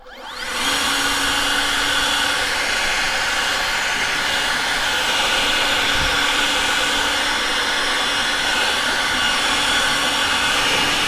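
Air blower roaring at full power while blowing debris out of a 1973 Mach 1 Mustang, a loud, steady, close whooshing hiss that starts abruptly and holds unbroken to the end.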